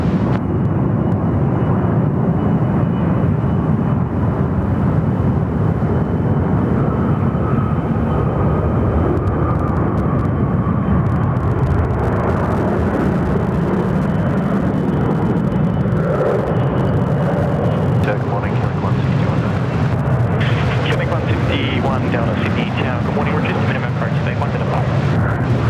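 A jet airliner on the runway at Sydney Airport, a steady loud engine roar and rumble holding for the whole stretch while people talk and air traffic control radio chatter runs over it.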